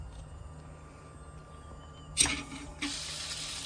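Diesel fuel from a transfer tank's pump nozzle pours into a tank, a faint steady rush that bursts louder partway through and then settles into a constant splashing flow.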